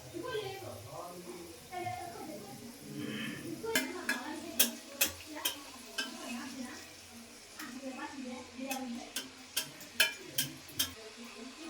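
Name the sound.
egg puri frying in hot oil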